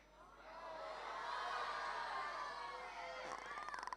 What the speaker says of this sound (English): If you guys think it's real, scream yes.